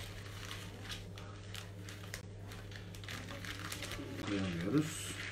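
A plastic zip-lock freezer bag crinkles and rustles close by in short bursts, over a steady low hum, with a louder crumple near the end.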